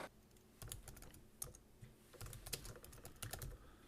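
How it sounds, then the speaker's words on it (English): Fingers tap out a title on a computer keyboard, faint, quick irregular clicks in short bursts with brief pauses, heard alone in a quiet room. "Now you can start typing."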